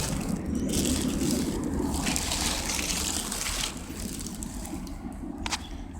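Tie-dyed Nike socks rinsed out in running water, a steady close splashing and trickling rush that eases slightly partway through, with a few sharper splashes near the end.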